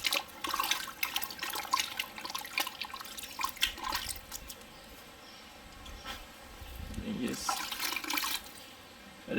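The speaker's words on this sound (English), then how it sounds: "we now have to coat it with this kaolin. The white clay mixed with the water. So you just mash it this way and then mix it" Wet squelching and splashing as white kaolin clay is mashed and stirred in water, with a soft running-water hiss and clatter in the background.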